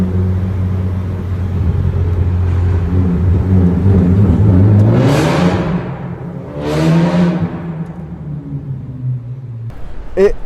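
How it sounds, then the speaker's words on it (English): A tuned Ford Focus ST engine rumbles and then roars loudly as it accelerates twice in quick surges through a tunnel, the exhaust booming and echoing, then settling back to a low idle. "I'll put a clip of how loud this car can really get, especially going through a tunnel"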